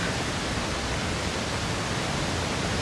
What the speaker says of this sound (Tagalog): The Tinoy Ann Falls.